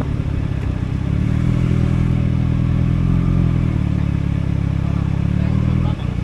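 Motorcycle engine running steadily and loudly on a mountain pass road between Buon Ma Thuot and Nha Trang, a continuous close drone with some clatter throughout.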